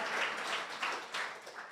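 Church congregation clapping together in a large worship hall, a dense, fairly soft wash of applause with a few swelling pulses, continuous throughout.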